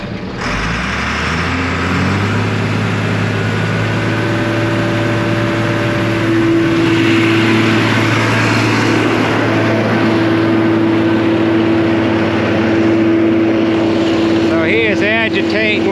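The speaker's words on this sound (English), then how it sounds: "With the crawler, just working it back and forth." A crawler machine works back and forth near a pump, its engine giving a loud, steady drone with sustained tonal whine throughout, rising slightly partway, with a clanking burst near the end.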